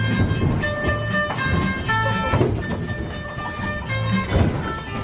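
A tourist train in Malta rumbles steadily along with mechanical clatter and a sustained horn-like tone, loud and close, no one speaking.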